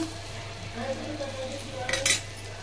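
Mutton liver frying in a pan while being stirred, a soft steady sizzle with light scraping of a utensil and a brief sharper clatter near the end.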